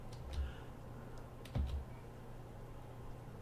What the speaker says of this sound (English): So I just type that in and I click join.